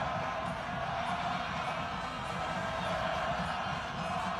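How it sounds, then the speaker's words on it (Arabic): A large football crowd in the Honorary Stadium in Oujda cheers and roars continuously, a dense, even wall of sound from many voices carrying through the stands. "دابا سمعوا الجمهور ديال وجده"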